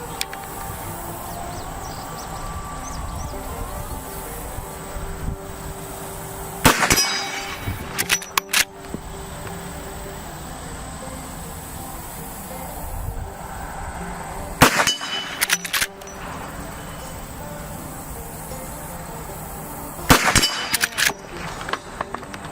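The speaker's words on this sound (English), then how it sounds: "we put 3 shots down range there, all of them dead center right in the middle of those metal plates" Lever-action rifle rounds strike metal plates at 50 yards, giving three separate sharp clanging impacts spaced several seconds apart over a steady outdoor background hum.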